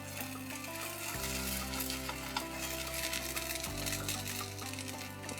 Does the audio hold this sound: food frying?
yes